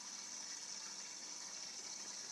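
Steady broadband rush of water pouring into the chamber of a Berkey gravity water purifier during element cleaning, a continuous even hiss with no voices.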